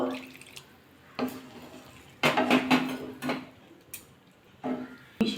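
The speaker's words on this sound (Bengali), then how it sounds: "ভালো করে মিশিয়ে নিলাম" Soybean and cauliflower curry stirred in a cooking pot after hot water is added: several bursts of spoon scraping and clanking against the pot, with wet sloshing between them and a sharp knock at the end.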